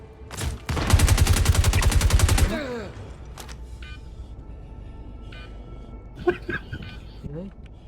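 A sustained rapid burst of automatic gunfire in Star Citizen, loud and close for about two seconds after a single opening shot, then quieter game ambience with a few faint clicks and a voice speaking.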